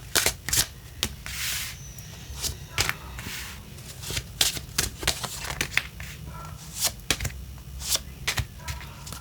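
Cards shuffled for a tarot-style reading, heard as a run of sharp riffling snaps and soft slides close by, with quiet murmured talk underneath.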